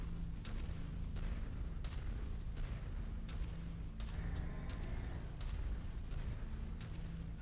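Turret fire and explosions in a mech combat video game: a run of sharp booming blasts and impacts over a constant low rumble, with several heavy hits spaced irregularly throughout.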